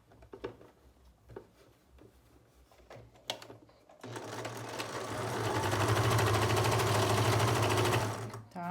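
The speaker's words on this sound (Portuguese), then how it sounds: "vou pegar ele, colocar aqui e vou levar pra máquina" A domestic sewing machine stitches viscose fabric for a beach cover-up, starting after quieter handling noises and then running loud and steady for several seconds.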